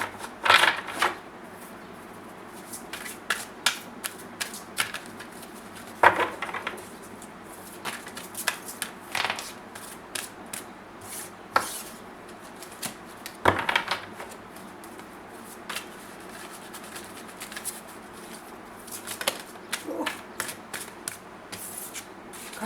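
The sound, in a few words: shuffling a tarot card deck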